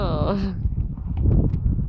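A father imitates horse hooves with his voice, a quick run of hollow clip-clop clicks following a short vocal sound, close and fairly loud.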